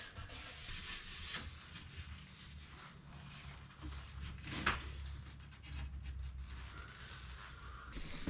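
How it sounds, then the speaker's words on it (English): Wooden cabinet surfaces rubbed down with a soft cloth in a 2002 MCI bus conversion, giving a steady close-up scuffing and wiping texture with a brief sharper knock midway, no talking. "I've got the cabinets all rubbed down with a cloth"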